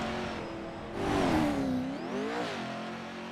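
A Pro-4 off-road race truck in a Championship Off-Road race charges over jumps, its engine loud and close as it revs up and falls back in rising and falling surges, with no voices over it.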